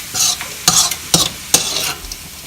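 Vegetable rice stirred in a pan, with four or five distinct scraping strokes of the spoon over a light background sizzle, close and fairly loud, no voices.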